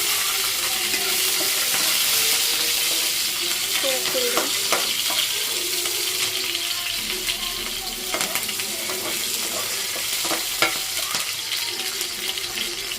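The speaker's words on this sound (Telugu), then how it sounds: "అప్పుడు మనం వెజిటేబుల్స్ వేసుకుని ఫ్రై చేసుకుందాం." Vegetables with red and green chilli fry and sizzle in a pan, with repeated stirring and scraping knocks over a steady hiss, close and fairly loud throughout.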